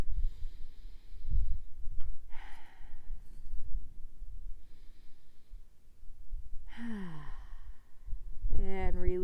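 Deep breaths taken during a wrist and forearm stretch, a few slow sighing exhales spaced apart over low background rumble, with a brief voiced sound near the end.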